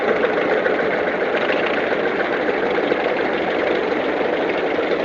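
A heavy Australian-made Kelly and Lewis Bulldog tractor engine, about 40 horsepower, drones continuously at close range during a parade, a dense, even mechanical rumble with no pauses or voices.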